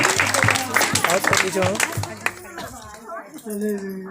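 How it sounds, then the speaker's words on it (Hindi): Loud, rhythmic clapping from a church congregation giving thanks, sharp claps mixed with voices and singing-like speech, easing off toward the end. "जोरदार ताली बजा के परमेश्वर धन्यवाद"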